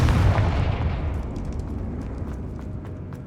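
A Confringo blasting curse explodes in the Hogwarts Legacy video game, a heavy, close booming blast that hits at once and then rumbles away over about three seconds.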